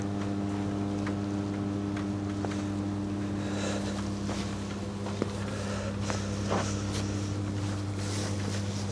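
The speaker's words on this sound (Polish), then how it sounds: "I słychać jak transformatory tu chodzą." Electrical transformers in an old steelworks give off a steady, low, droning hum with layered tones, close and continuous throughout, with faint clicks and ticks scattered over it and no talk.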